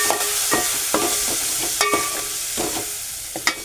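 Chopped green chillies frying in a pan, stirred with a spoon that clinks and scrapes in a loose rhythm over a soft continuous sizzle, close up and with no talking.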